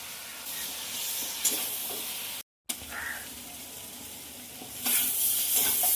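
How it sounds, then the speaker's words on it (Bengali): Papaya and spices fry in a pan as fried potatoes and soybean chunks are added. A steady close sizzle and stirring scrape run throughout, broken by a brief silent gap, with the hiss growing louder toward the end. "পেঁপে আর মশলা একদম ভাজা হয়ে গেছে এবার দিয়ে দেবো ভেজে রাখা আলু আর সয়াবিন"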